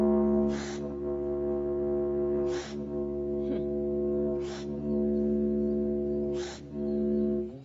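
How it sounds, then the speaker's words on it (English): A didgeridoo droning continuously through circular breathing, its low buzzing tone held unbroken while four short sharp breath intakes cut in at regular intervals, close and fairly quiet. "I'm going to take a breath while the sound of the didgeridoo stays continuous."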